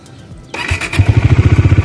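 A Bajaj Dominar 400 motorcycle engine starts with a sudden crank and catch, then settles into a loud, close, steady rhythmic idle thump.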